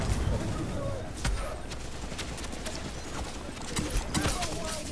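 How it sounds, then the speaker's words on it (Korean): Clustered gunshots pop and crackle in a video game firefight, fairly close and steady across the moment, with players' voices talking over them. "쏜다, 이거."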